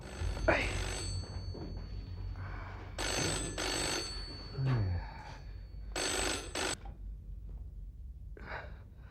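A telephone rings in bursts between pauses, with breathing and rustling nearby.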